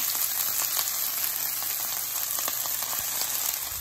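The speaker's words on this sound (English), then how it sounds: "So I'm gonna add a tablespoon of oil. Then I'm gonna add my broccoli rabe." Broccoli rabe sizzling in a tablespoon of hot oil, a steady close hiss with dense crackling pops throughout, fairly loud and with no talk.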